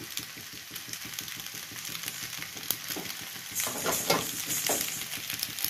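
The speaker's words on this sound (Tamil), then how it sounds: "நெய் போட்டு நல்லா மிக்ஸ் பண்ணிவிடுங்க" Macaroni sizzles softly in a pan with ghee while a spoon stirs it, a low steady frying hiss with quick rhythmic scraping that grows louder and brighter toward the end.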